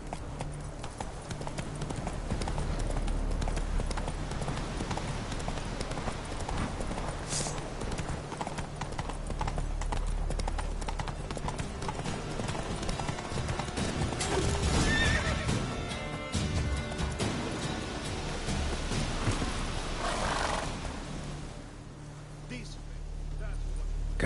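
Hooves of Roach, the horse in The Witcher 3, clip-clop steadily with whinnies and neighs from the game, set over a continuous rumbling game soundscape with voices talking.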